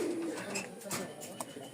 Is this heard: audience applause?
no